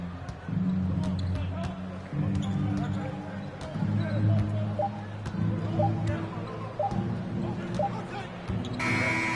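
The final buzzer sounds in an NBA 2K23 basketball video game between Cleveland and an opponent, ringing out over ball bounces, crowd noise and nearly constant commentary.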